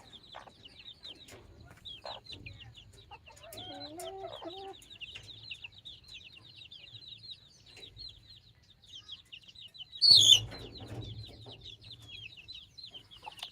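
Free-range village hens and chicks on a poultry farm cluck and chirp steadily at a moderate distance, with a rooster-like call and a brief louder burst of fowl noise partway through; no pecking on grain is distinct.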